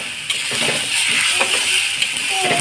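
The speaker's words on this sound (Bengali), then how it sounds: "এই মশলাটাকে আমি যতক্ষণ না এর থেকে জল বার হয়ে আসছে একটু কষিয়ে নেবো" Masala spice paste being fried and stirred in a pan for a rui fish lanka-pora dish: a steady, close sizzle with soft scraping and occasional light clinks of a utensil against the pan.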